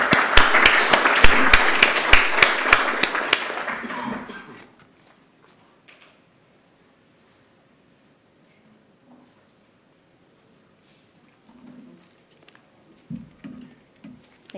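Conference audience applauding at the close of a data stewardship session talk, a dense burst of claps for about four seconds that fades out, followed by near silence and a few faint rustles.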